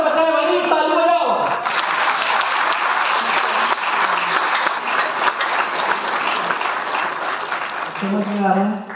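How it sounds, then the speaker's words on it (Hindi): Sustained audience applause at a direct selling company seminar swells into a dense, steady roar of clapping for several seconds, with a speaker's voice heard briefly at the start and end. "ताली बजाओ"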